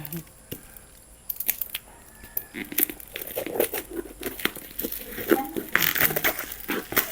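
Wrapped package being opened by hand, its plastic crinkling and crackling in irregular bursts that grow busier and louder toward the end, heard up close.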